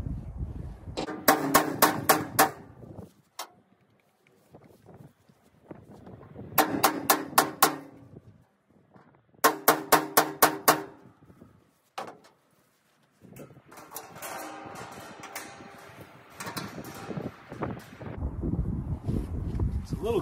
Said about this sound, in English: You can always hit it with a hammer.